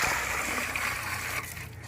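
Seawater splashes and sloshes continuously, a loud, dense wash close by that eases slightly toward the end, with no voices over it.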